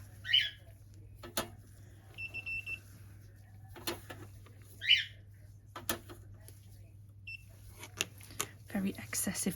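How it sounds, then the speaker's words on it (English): A UV nail lamp beeps in a quiet workspace where press-on nails are made. Its short, faint electronic tones come a few times, separated by soft clicks and handling noises. "Very excessive beeping from my lamp today."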